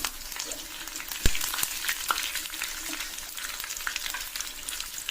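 Dried red chillies, peanuts and curry leaves frying in hot oil in a pan, a close, continuous crackling sizzle with scattered sharp pops, no voices.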